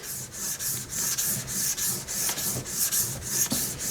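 A Mora Kansbol knife bevel is sharpened with firm, rapid back-and-forth strokes, giving a close, steady rasping scrape that repeats in an even rhythm throughout.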